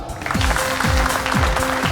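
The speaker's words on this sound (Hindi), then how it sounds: "जोरदार तालियों के साथ स्वागत कीजिए हमारी डांसिंग क्वीन दीपनिता" A studio audience at a dance show bursts into loud, sustained applause to welcome the judges, with a pulsing musical beat running underneath the clapping throughout.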